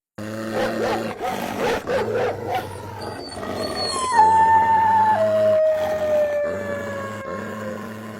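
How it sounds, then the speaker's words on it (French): Several dogs bark roughly at first, then break into long, drawn-out howls that hold and waver together, fairly close. "quand les chiens se retrouvent à faire des chants, voilà ce que ça donne"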